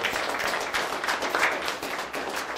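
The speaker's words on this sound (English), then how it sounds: "Let's give them a big round of applause." An audience at a headquarters-relocation announcement event in North Little Rock claps in a dense, continuous round of applause, brisk and fairly close, with no talking.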